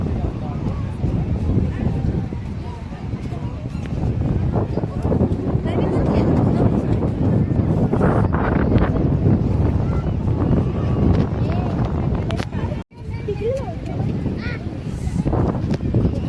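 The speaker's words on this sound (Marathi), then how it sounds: "हवा पण बघा किती हवा किती सुटलेली आहे" Strong wind blows outdoors at sunset, a loud, continuous rumbling buffet on the microphone with one brief dropout, while people talk throughout.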